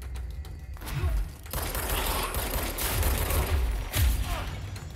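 Gunfire in the video game Control, a dense, crackling fusillade of rapid shots and impacts with heavy low booms, steady and loud through most of the stretch with a sharper burst near the end.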